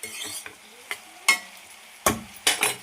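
Curry being stirred in a pan after salt goes in: a handful of sharp scraping strokes spaced irregularly, with a soft simmering sizzle between them.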